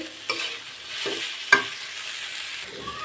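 Fish bharta mixture stirred and fried in a pan, a steady sizzle broken by three or four scraping strokes of a spatula, close and fairly quiet.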